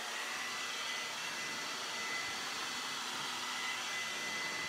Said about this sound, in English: I always get sweaty when I blow dry my hair